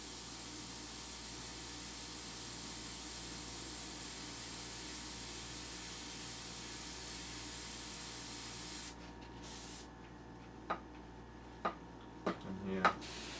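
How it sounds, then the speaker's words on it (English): An airbrush spraying paint for a woodgrain effect gives a steady soft hiss under a constant background hum, then stops, followed by a few faint taps and clicks. "Give it a spray just in that area, and again, drag it with the brush."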